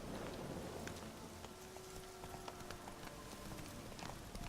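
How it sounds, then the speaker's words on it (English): Quick rhythmic hoofbeats of a galloping horse in The Witcher 3: Wild Hunt, fairly faint, set against a steady bed of background noise. "I might as well get on my horse and gallop over."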